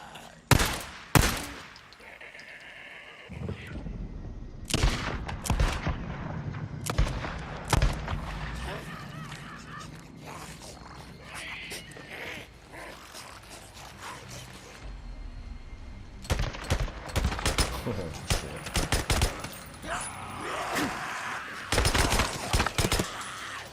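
Machine gun fire and scattered shots in the video game Days Gone, loud irregular bursts at the start and again in the final stretch, with quieter busy game sounds in between.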